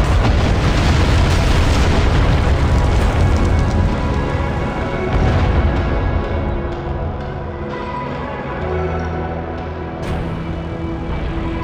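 A huge explosion destroys Champion City in Minecraft: Story Mode, a loud, continuous roaring blast with deep rumbling debris that holds for over ten seconds and only slowly eases off.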